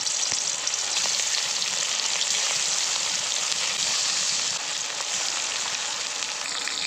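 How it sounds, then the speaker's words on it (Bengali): Rohu fish pieces fry in hot mustard oil in a wok, giving a dense, steady, close sizzle that holds level throughout with no talking. "তেল গরম হয়ে গেছে, এবার মাছগুলো ভেজে নেব।"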